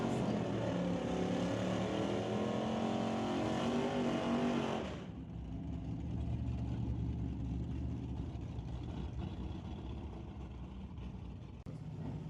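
Drag racing at Mission Raceway Park, with a Ford F-250 pickup among the launching vehicles: a loud, roaring engine surge for about five seconds that falls to a lower, continuous rumble.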